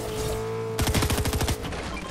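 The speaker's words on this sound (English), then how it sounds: "Oh, someone's shooting at me now" A quick burst of automatic gunfire in the video game Fortnite, loud rapid shots rattling out over a background hum of game sound, then cutting off and leaving the hum alone.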